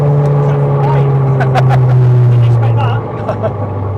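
A Ford Fiesta Mk6 with a swapped engine and drive-by-wire throttle pulls hard in fifth gear, giving a loud, steady engine drone heard from inside the car, with the pitch dropping slightly near the end.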